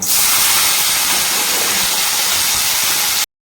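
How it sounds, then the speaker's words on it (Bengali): Pointed gourd and potato frying in hot oil, a loud, dense, continuous hiss of sizzling close up that holds steady for about three seconds and then cuts off abruptly. "কাঁকরোলটা আর আলুটা ভেজে নিই আগে"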